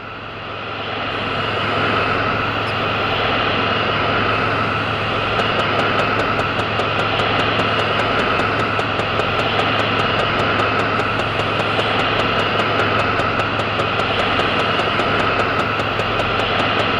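Single jet engine of an F-104 Starfighter spooling up in the X-Plane 12 flight simulator, a steady loud roar and hiss with a rising whine, no voices.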